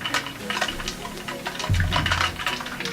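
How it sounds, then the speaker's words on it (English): Water sloshes and swishes in close, uneven splashes, with a fuller burst of liquid movement partway through, heard alone in a quiet indoor setting. "Sloshy water noises."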